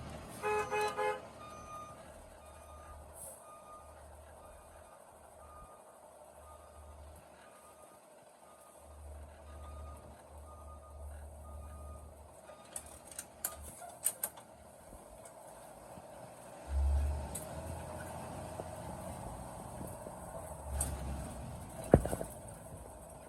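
A truck slowly pulls out during a commercial driver's pre-trip inspection, with reversing beeps early on over a low engine rumble, then creaks and clanks from its mechanisms, some louder knocks, and a short toot near the end.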